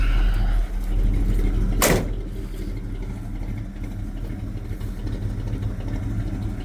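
An old Chevy farm truck engine idles steadily and up close, a continuous low rumble that stays even throughout with one brief sharp noise near the start.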